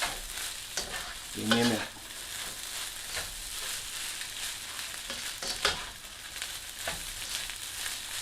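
Jerky fried rice with broken-up egg being tossed and stirred in a hot pan, a steady sizzling hiss broken by scraping and clattering of the spatula, with a brief spoken remark partway through.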